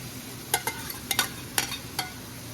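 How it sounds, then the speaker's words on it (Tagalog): Sweet corn and sausage are stirred in a sizzling pan for buttered garlic Cajun shrimp, a soft steady fry with a few sharp scraping strokes of the spatula, close and moderately quiet. "Lagay na natin yung sweet corn at saka yung sausage."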